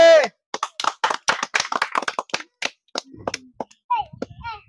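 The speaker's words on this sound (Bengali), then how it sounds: "মনের তালি তালি তালি হবে, তালি" Hands clap in a rapid, uneven series at a lychee-eating contest, loud and close, mixed with excited voices and chatter.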